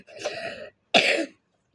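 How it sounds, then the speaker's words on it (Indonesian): A young child coughs twice up close, two short, rough bursts separated by a brief pause. "Lagi batuk guys."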